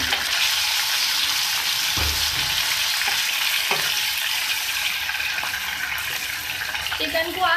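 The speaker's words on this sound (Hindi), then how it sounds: "चिकन को आप इसमें फ्राई कर लें।" Chicken frying in garlic oil in a pan for egg rolls, a constant bright sizzle with a few clacks of a utensil stirring and a voice talking over it.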